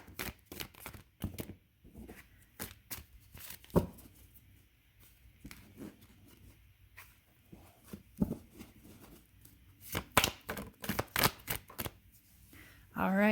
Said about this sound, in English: Shuffle it a little bit.